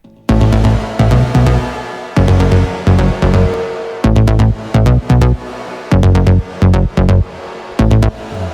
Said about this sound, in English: the side chaining, it would basically sound like this.